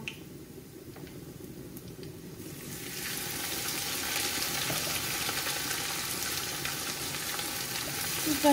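Onions sizzle as they hit hot oil in a pan for a Bangladeshi beef and potato curry, and a steady close frying hiss swells and holds after a quieter start.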